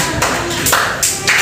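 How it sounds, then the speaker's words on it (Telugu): At an anganwadi during a snake game, young children clap to cheer on a playmate: a few close, loose bursts of clapping arrive in a rough rhythm of about four beats. "క్లాప్స్ కొట్టాలి"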